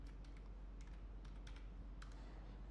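Quick, light clicks of typing on a computer keyboard in a quiet room, irregular keystrokes close by over a low steady hum.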